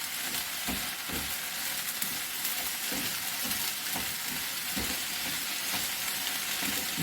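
Onions stir-fry in a pan with a steady broadband sizzle and intermittent scraping stirs for several seconds, close by and continuous, with no voices.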